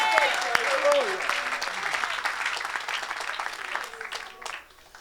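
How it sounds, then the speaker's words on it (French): A congregation at a church service claps and cheers in sustained applause, with a voice speaking over it before the clapping fades out at the end. "Ici, on acclame pour tous les miracles."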